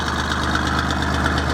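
An Aveling Barford GRT road roller's diesel engine idling up close, a loud steady chugging drone with a fast regular knock throughout.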